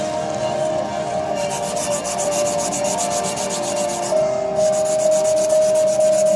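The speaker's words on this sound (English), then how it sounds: "Now, using the 400 grit, do the same thing." A homemade fountain pen part is sanded with 400 grit sandpaper in a continuous, close, rhythmic rubbing rasp that pulses steadily back and forth with no speech.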